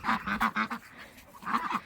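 Domestic ducks in a farmyard yard quacking in a quick run of four or five nasal calls, a short gap, then another burst of quacks, close and fairly clear.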